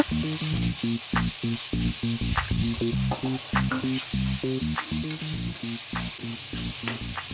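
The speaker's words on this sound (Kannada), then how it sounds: "ಇದ್ರ ಜೊತೆ ಟೊಮೆಟೊ ಹಾಕೊಂಡು ಫ್ರೈ ಮಾಡ್ಕೊಳ್ಳೋಣ." Onion and tomato frying in a pan for a mushroom curry, a continuous close sizzle with bursts of stirring and scraping, set against background music.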